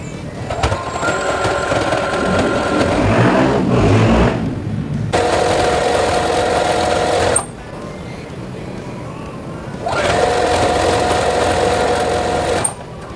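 A sewing machine runs in long steady stretches with a whirring hum, briefly stopping and restarting, close by and fairly loud.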